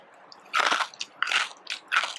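Crispy Chinese roast pork skin (siu yuk) is bitten into three times, each bite a loud, close, brittle crunch separated by short pauses.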